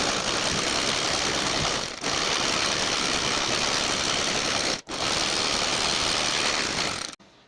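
An electric sewing machine stitches a side-pleated kurti in a steady, continuous mechanical whir that runs close and loud. It breaks briefly twice and stops just before the end.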